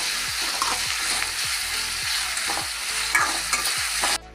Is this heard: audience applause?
no